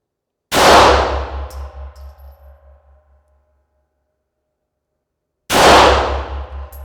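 Two loud rifle shots inside an indoor shooting range, each a sharp blast followed by a booming, pulsing echo that rings and fades over a couple of seconds, spaced about five seconds apart with no talk.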